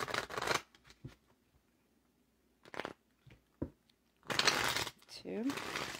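Tarot cards being shuffled by hand in short bursts, crisp riffling rustles close up, separated by pauses and brief low speech.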